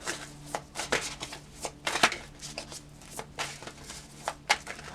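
A deck of cards is shuffled in a quiet room, giving a series of short, crisp riffling bursts at an uneven rhythm, close by.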